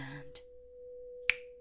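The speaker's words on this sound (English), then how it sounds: "with a snap of my fingers, I've made your card vanish from the deck" One sharp, crisp finger snap, close and isolated, over a faint steady hum, with a brief soft voice just before it.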